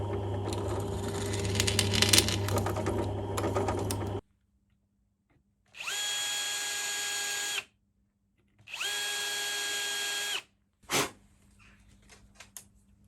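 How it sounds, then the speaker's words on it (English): A drill press whirs loudly while drilling holes in a hinge, stops, then runs in two separate bursts of a couple of seconds each, followed by a sharp clink and quiet. "I use a drill press to create the extra holes at the end."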